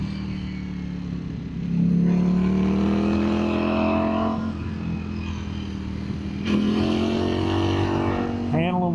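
A Ducati Streetfighter V4S motorcycle chugs along at low speed, its engine note rising in two gentle swells, loud and close, with a brief sharp chirp near the end.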